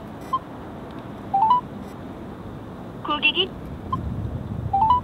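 Phone keypad tones sound as a call is placed to a car dealer to request payment for a delivered vehicle: a few short single beeps and small quick runs of tones, separated by pauses, fairly clear over low background noise.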